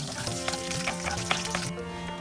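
Cumin, mustard and nigella seeds sizzling in hot oil over low to medium heat for bagara baingan, a dense steady crackle with small pops, close and alone without talk.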